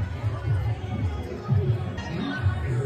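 Busy crowd chatter fills a crowded college lunch at a government college in Himachal, a steady babble of many voices with occasional louder shouts nearby.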